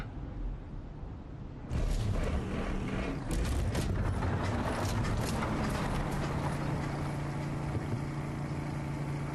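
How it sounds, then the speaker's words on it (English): Video game boat engine running steadily with mechanical clatter and creaking, loud and continuous after a quieter start, no voices. "Something going on with my engine?"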